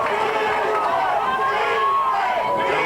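A rugby league crowd at a Keighley versus Batley match swells into a loud, sustained roar of cheering and shouting as a player breaks into opposition territory, with a commentator talking over it.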